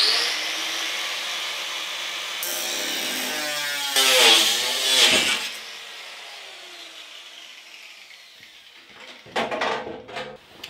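An angle grinder cuts through a metal rain gutter, a loud steady whine that rises and wavers as the disc bites in, then winds down and stops, followed by clattering of the gutter and tool.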